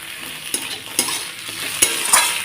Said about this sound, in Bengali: পেঁয়াজটা দেখো সুন্দর লাল করে নিয়েছি এখন দিয়ে দিলাম টমেটো কুচিটা দিয়ে দেবো আদা থেতোটা